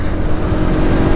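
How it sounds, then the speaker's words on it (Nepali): A motorbike engine runs at steady high revs, loud and close, a continuous droning roar with no pauses and no talk. "अब बाइक उडाउँदै बस्ने हो"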